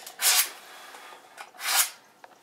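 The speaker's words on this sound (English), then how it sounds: "Gotta sharpen the knife." A kitchen knife being sharpened before chopping onions for goulash, heard as two long rasping strokes about a second apart, fairly close, with a faint scrape at the end and no talk.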